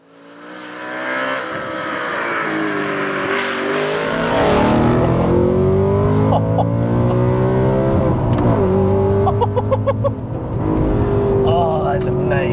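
An Audi B7 RS4 with a straight-pipe exhaust starts up and revs, a loud, close engine roar that rises and settles into a rumbling idle broken by several sharp throttle blips, with voices talking over it.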